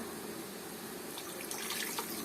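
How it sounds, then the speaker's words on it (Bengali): Water pours steadily into a cooking pot for a hilsa fish and taro curry, a soft, continuous splashing stream heard up close and fairly quiet, with no talking. "পানি অ্যাড করে দিলাম"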